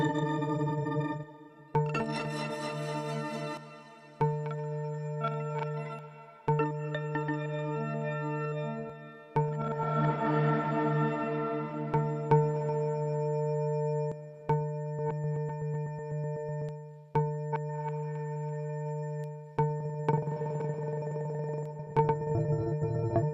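A granular preset of an ambient audio plugin plays sustained tonal drones with layered harmonics, shifting in bursts and swells across several sections, each change starting with a short attack and no voice present.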